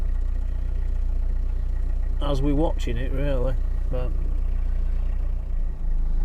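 An idling car engine sitting stationary for a long stretch: a steady low throbbing hum throughout, with someone talking briefly over it in the middle.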